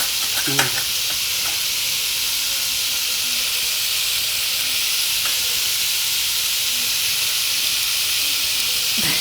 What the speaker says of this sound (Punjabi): ਤੇਜ ਪੱਤਾ ਹੁਣ ਆਪਾਂ ਪਾਤੀ ਕਾਲੀ ਮਿਰਚ ਹੁਣ ਆਪਾਂ ਇਹਨੂੰ ਸਵਾਰ ਕੇ ਭੁੰਨ ਕੇ ਫਿਰ ਗ੍ਰੈਂਡ ਕਰਾਂਗੇ